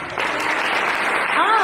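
An audience at a cultural complex event applauds for a birthday, with dense, steady clapping that starts after a brief pause and continues while a voice rises over it near the end.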